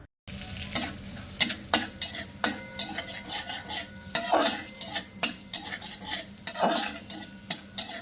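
Black and white cumin seeds frying in butter as a utensil stirs them, with a soft sizzle beneath repeated sharp scrapes and knocks against the pan, no voices.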